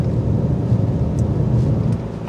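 A 2024 Lexus ES250 under acceleration, heard as a steady low engine and road rumble that stays loud and even for a couple of seconds, without any voices.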